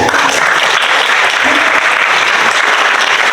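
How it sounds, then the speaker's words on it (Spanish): Loud, dense applause from a seated audience at an academic economics colloquium, sustained evenly throughout with no gaps, with faint voices barely showing beneath the clapping. "un agradecimiento y un aplauso también"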